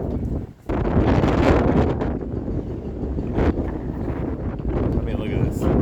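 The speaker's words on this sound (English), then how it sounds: "Looks like this wind's gonna pick up and hold the rest of the day." Strong wind roars across a microphone on board a boat in steady, loud buffeting gusts, with a short lull near the start and a broadband rush that fills the scene.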